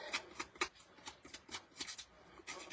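Scissors scraping and snipping along paper edges to distress them for a mixed media piece on acrylic panel, a quick run of close, crisp rasping strokes in an irregular rhythm.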